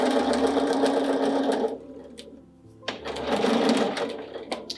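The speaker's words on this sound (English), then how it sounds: "I'm going to stitch all the way around to the next pin" Sewing machine stitching around a pillow ruffle, running in a steady whirring burst, pausing briefly, then whirring again, close and loud.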